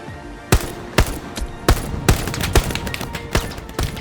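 Gunfire in the WWII shooter Hell Let Loose: eight or so sharp, loud single shots at irregular intervals over a steady battlefield rumble, no voices.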